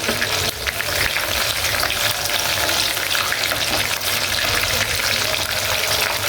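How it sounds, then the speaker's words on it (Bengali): Chicken breast pieces frying in oil for Dhaka-style chicken chaap, a dense, continuous hiss of hot oil that holds loud and steady from start to finish, with no one speaking. "এখন সিনা ভাজবো"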